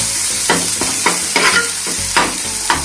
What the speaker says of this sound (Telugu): దాన్ని కలుపుకోవాలండి, మిక్స్ చేయాలండి. మొత్తం అన్నిటికీ పట్టేటట్టు మిక్స్ చేయాలండి.